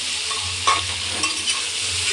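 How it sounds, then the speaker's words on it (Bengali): Papaya pieces fry in a pan and are stirred, giving a dense steady sizzle with a few scraping spoon strokes against the pan. "ভাজা ভাজা এই যে পেঁপেটাকে আমি ভাজা ভাজা করে নিচ্ছি"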